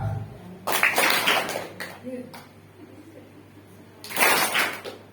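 Schoolchildren at an elementary school anti-bullying session clapping in two short, sharp group bursts separated by a quieter stretch, with an adult voice talking between them.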